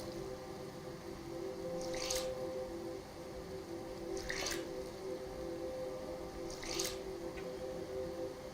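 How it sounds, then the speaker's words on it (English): Wet clothes are wrung out in the DayZ survival game, three separate squishy, dripping squeezes spaced a couple of seconds apart over a low rainy ambience. "Let's wring our stuff out again."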